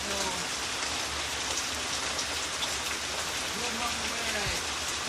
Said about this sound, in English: Look at the water coming down.